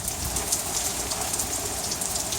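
Heavy rain pours steadily onto surfaces during an Oklahoma storm, a dense, continuous hiss with no talk.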